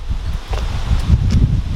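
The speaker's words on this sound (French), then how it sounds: "là je vais me mettre à l'abri du vent" Gusty outdoor wind rumbles and buffets the microphone in low, uneven surges, loud and close, with a faint rustle on top and no talking.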